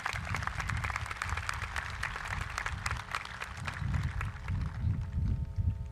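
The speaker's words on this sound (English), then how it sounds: "Please give them another round of applause." A crowd at a 2022 high school commencement gives steady, sustained applause for the choir, a dense even patter of many hands heard from a short distance.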